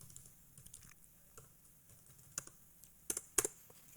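Keys on a computer keyboard tapped while an address is entered, a sparse run of soft clicks with a few sharper, louder strikes near the end, no voices.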